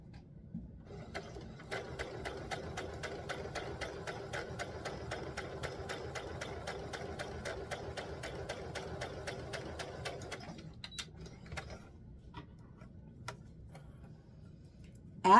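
A home sewing machine stitches a square neckline on a formal dress in a quiet, rapid ticking run. The stitching pauses at the corner before resuming briefly with a few slower stitches.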